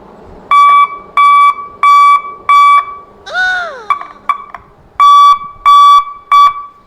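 Repeated steady electronic beeps in even pulses, loud and close, broken midway by a short warbling siren-like sweep and a few quick chirps before the beeping resumes.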